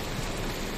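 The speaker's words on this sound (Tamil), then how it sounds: "அப்படியே நல்ல மழை பெய்யுது." Heavy rain pouring steadily in Aralipparai, Tamil Nadu, a dense even hiss of falling water that fills the whole short stretch with no voices.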